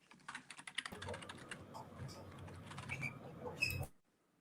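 Rapid clicking of keys on a computer keyboard, a busy patter of quick irregular taps close by, ending in a short final burst before falling silent.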